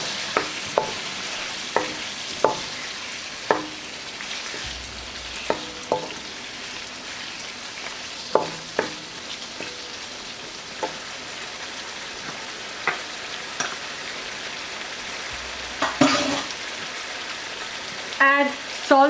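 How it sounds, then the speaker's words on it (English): Mutton biryani ingredients sauté in a pan with a steady close sizzle, broken by sharp scrapes and knocks of a spoon stirring at irregular intervals, with no talking. "Give it a good stir and saute this for less than a minute."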